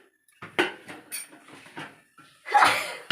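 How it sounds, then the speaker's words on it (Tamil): Rice grains pour and rattle into a metal pressure cooker in a few bursts, with clinks of a utensil against the rim, close and fairly loud. "குக்கரில் அப்படியே அரிசியும் கூட சேர்த்துற வேண்டியதுதான்."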